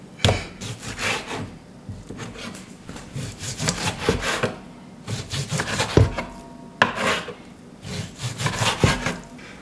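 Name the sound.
sharpening a knife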